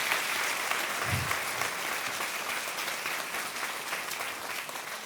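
Dense applause from a large audience at a French-language talk fills the room, steady and loud throughout with a brief low thump early on and no speech.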